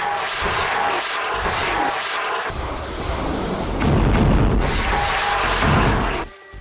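A Hezbollah drone, a slow flyer of about 200 km/h, gives a loud, steady broadband engine roar that swells midway and holds before dropping off near the end, with no voices.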